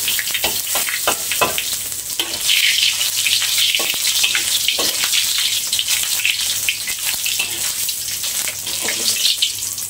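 Green beans and egg fry in a hot pan, giving a continuous loud sizzle with frequent clinks and scrapes of stirring throughout.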